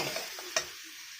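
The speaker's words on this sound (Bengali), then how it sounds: "কচুর শাকগুলো দিয়ে ভালো করে একটু ভেজে নেব।" Taro leaves frying in a pan for a hilsa fish head dish, a brief low sizzle with one sharp utensil tap midway, fading quieter toward the end.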